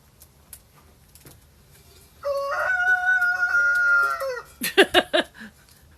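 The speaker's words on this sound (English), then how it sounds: "I guess everybody heard they like the rooster crow and he decided he's going to come close enough." A rooster crows once nearby, a long, loud, drawn-out call, then several short clucks follow in a quiet outdoor setting.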